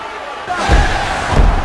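Wrestler Jeff Hardy lands a gourdbuster on the ring mat, two heavy booming thuds under a roaring crowd, loud and near.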